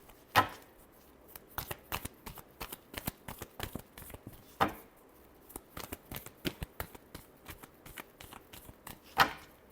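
Tarot cards are shuffled up close in a quiet room, giving repeated riffling and tapping bursts with sharp snaps of the deck at intervals.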